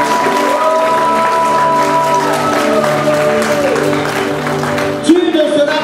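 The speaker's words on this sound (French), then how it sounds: "Acclame très fort Jésus-Christ." A church congregation cheers loudly for Jesus Christ, a sustained roar of applause and shouting with held voiced tones rising over it, followed by a louder burst near the end.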